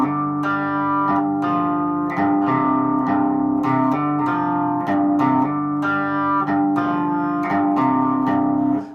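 Electric guitar playing an intro riff slowly, with a driven, effected tone: a repeating picked riff of bright, sustained notes, steady and close, played alone without talk.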